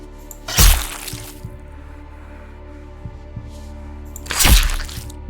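Two deep, heavy thumps like a slow heartbeat in a horror cooking video game, spaced a few seconds apart, over a low droning hum.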